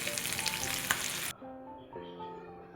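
Stuffed okra sautés in oil with a bright sizzle and stirring for about a second, then the sizzle drops abruptly and quieter tonal background sound continues.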